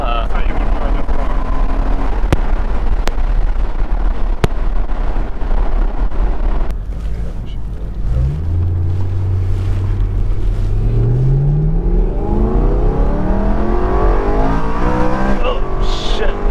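The engine of a 2013 BMW M3 Competition Package roars loudly and steadily, then climbs in repeated rising sweeps as the car accelerates hard through the revs, with a brief shift dip between pulls.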